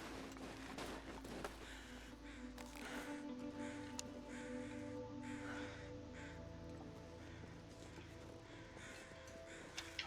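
Crows caw a few times in The Long Dark video game, set in a cold wilderness. The caws are faint and distant, mixed into a steady bed of ambient wind and game noise.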